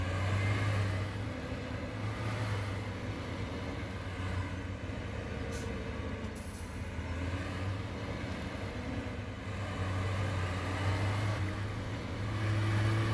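Tractor engine in Farming Simulator 17 pulling away, a steady low droning rumble that holds loud and even throughout, with a brief higher whine partway through.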